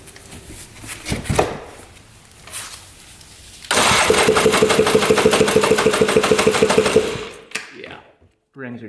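A 4x4 ATV whose piston rings are stuck from sitting cranks over with the throttle open in a loud, steady run of rapid rhythmic pulses lasting several seconds, then cuts off; a voice is heard briefly beforehand.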